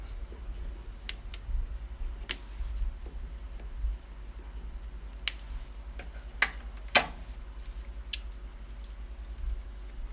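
Scissors snipping an aquarium plant in a goldfish tank, a scattering of sharp, quiet clicks and snips at irregular intervals over a low steady hum.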